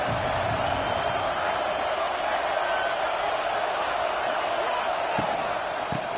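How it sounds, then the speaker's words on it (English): A football stadium crowd at a Nebraska at Duke game roars in a loud, sustained welcome, a dense wall of cheering with a few sharp bangs near the end. "This crowd bringing an ear-splitting welcome to their visitors."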